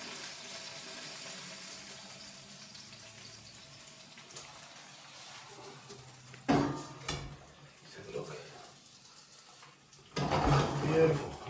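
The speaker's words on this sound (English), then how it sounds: "Just drain some of that water out," Liquid is drained from a cooking pot into a kitchen sink, giving brief splashy gushes of water over quiet background kitchen noise.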